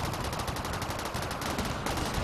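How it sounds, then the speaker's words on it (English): Turret gunfire from the video game RimWorld, a dense continuous burst of rapid machine-gun shots at steady loudness with no pause, heard alone. "Hey, you guys just freed one of my turrets to shoot at you."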